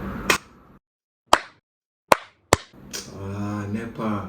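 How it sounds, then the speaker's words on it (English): Four sharp, separate hand claps spaced about a second apart, followed by a short stretch of talking. "you can even turn off the lights in your room with just a clap"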